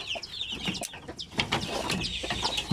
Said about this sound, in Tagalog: bali 10 yung kanyang mga sisiw